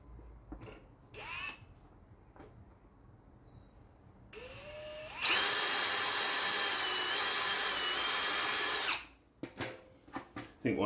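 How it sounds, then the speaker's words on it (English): An electric drill bores holes while fitting a gearbox cooling scoop to a Mazda MX5 ND, first with a brief rising whine, then a loud steady high-pitched whirring burst of about four seconds, followed by small clatters. "That's given me a better setup for drilling these others."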